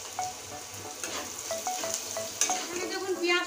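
Onion frying in hot oil in a pan while being stirred until browned, a close, steady sizzle broken by the scrape and clink of a spoon against the pan, with no voices.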